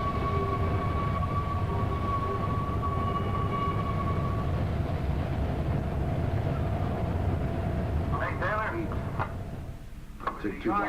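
A long Pittsburgh & Lake Erie freight train rolls past with a steady heavy rumble and a sustained tonal hum, some squealing and clanking bursts rising near the end.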